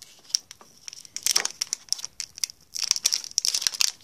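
Crisp crinkling and tearing of a foil Pokémon Evolutions card pack in irregular bursts, close by, with brief pauses between rips.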